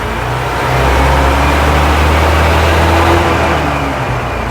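A 1958 Leyland PD2 double-decker bus engine pulls steadily after a double-declutched change into second gear, a loud, continuous low rumble that swells slightly and holds even, close up with no talk.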